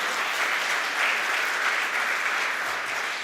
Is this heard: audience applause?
yes